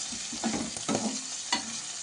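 Tomatoes and peas cooking in hot oil in a kadai, a steady sizzle with a few louder stirring bursts and a sharp clatter near the end, close and alone.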